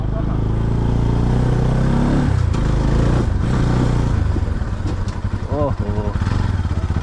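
A motorcycle engine on a village ride in Nepal chugs loudly and shifts pitch as the gears change, with knocks and rattles, and voices speak over it.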